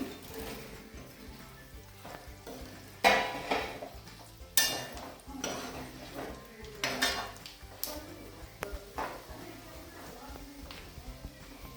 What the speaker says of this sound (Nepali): अब अघि हामीले साइडमा निकालेर राखेको मासु फेरि यसमै हाल्छौँ।